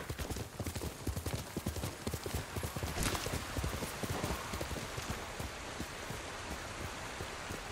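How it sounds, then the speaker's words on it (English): Rapid horse hooves clip-clop on hard ground at a quick gallop in the video game Ghost of Tsushima, with a soft patter like rain beneath them. "Horses."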